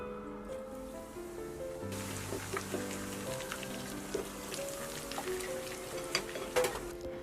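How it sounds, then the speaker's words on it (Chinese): Hot smoking cooking oil poured over ground chili to make Chinese chili oil, giving a steady close sizzle and crackle that swells after a couple of seconds and keeps bubbling, with a few sharper pops near the end. "油温这种冒烟的状态关火，加入2勺食用油泼进去，再等稍微的冷却以后，再把全部的泼进去。"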